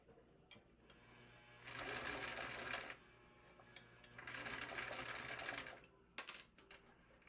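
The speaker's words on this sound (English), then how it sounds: "we'll top stitch 1/8 inch from the inner edge" Sewing machine top stitching a wallet an eighth inch from the inner edge, two steady bursts of rapid stitching separated by pauses with light handling clicks, close and alone.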